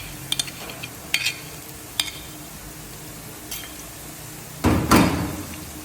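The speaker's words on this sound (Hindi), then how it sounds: "अब इसमें डालेंगे लहसुन अदरक का पेस्ट, तकरीबन 100 ग्राम।" Garlic ginger paste hits golden frying onions in a pot, giving a loud burst of sizzling toward the end after several sharp clanks and stirring knocks against the pan.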